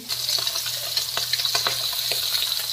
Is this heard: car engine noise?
no